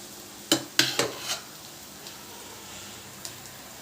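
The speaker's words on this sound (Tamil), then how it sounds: "இப்போ வந்து இது நல்லா கிளறி விட்டுக்கலாம்." A spoon scrapes and clanks against a pan while egg and cooked white rice are stirred together, with a few sharp metallic knocks early on, then quieter occasional taps over a faint background hiss.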